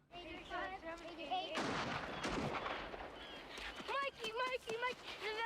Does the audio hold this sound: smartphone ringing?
no